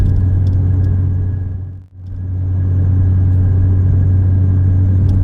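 A Fiat Punto HGT 1.8 16V with Colombo & Bariani camshafts revs hard, a loud steady engine roar held high that briefly dips and then climbs back to full drone.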